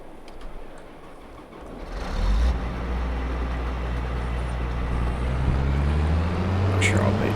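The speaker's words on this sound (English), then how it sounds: "we'll jump in this harvester and get it droved over" A combine harvester in Farming Simulator 22 pulls away with a steady, low engine drone that swells after a couple of seconds and then holds a constant rumbling hum with a faint whine above it.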